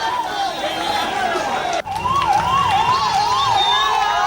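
An ambulance siren wails in repeated rising and falling sweeps at a borewell rescue site, broken by a brief sharp knock midway, then continuing loud and close.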